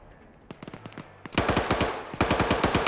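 Video game gunfire in a team match, with scattered single shots followed by loud rapid automatic bursts in two sustained volleys, close and dominant, with no talking.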